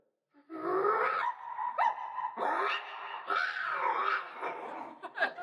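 At a convention voice-acting game, a person imitates an accusing dog bark, a sustained vocal run of growly barks and yips, loud and close in a quiet room.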